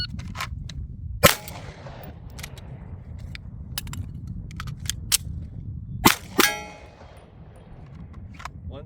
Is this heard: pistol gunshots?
yes